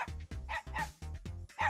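A dog barks in a quick run of short yips and bow-wows, several close, fairly quiet barks with brief gaps between them, heard alone.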